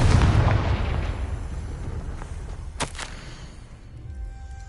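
Spell blast in a Harry Potter video game: a loud low boom opening the clip with a rumbling decay, followed by a sharp burst near the three-second mark, no voices.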